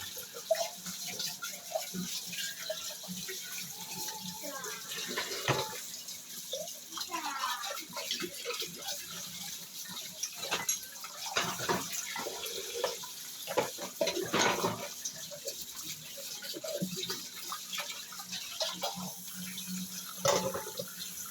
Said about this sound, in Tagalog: Babanlaw na tayo.